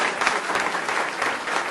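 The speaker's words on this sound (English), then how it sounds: "there's some applause" Brief burst of audience applause following a City Law Breakfast Series lecture, many hands clapping in an even, continuous patter at a moderate level.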